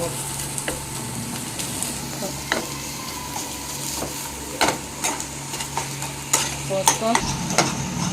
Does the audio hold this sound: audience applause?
no